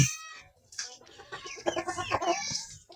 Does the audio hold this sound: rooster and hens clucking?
yes